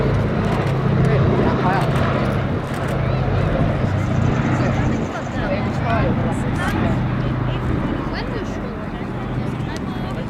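The Sally B, a B-17 bomber, flies over the Duxford airshow with escort aircraft, its heavy piston-engine drone rumbling continuously while people talk nearby throughout.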